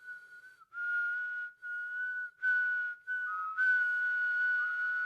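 One person whistles a steady, clear tune close up in several sustained phrases, with short pauses between them and no other sound.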